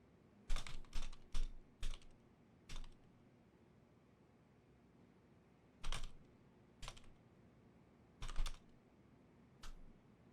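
A character in the video game Lost Judgment types on a computer keyboard in short clustered bursts of clicks, clear and close against a quiet background with pauses between bursts.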